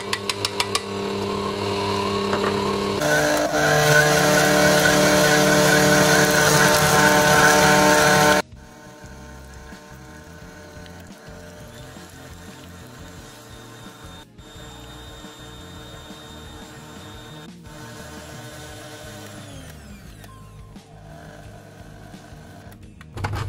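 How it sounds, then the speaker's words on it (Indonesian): A stand mixer beats butter until creamy and white for cheese kaastengel dough, a loud steady motor whir for the first eight seconds, then a quieter continuous mechanical hum with faint clinks for the rest. "Ini kita kocok dulu menteganya sampai creamy dan putih."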